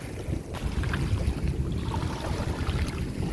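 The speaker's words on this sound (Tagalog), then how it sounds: "Alam mo, laki ng alon, no?" Large ocean waves on a fishing trip, heard as a continuous heavy rush of surf and water with wind buffeting the microphone, steady and fairly loud, with no talking.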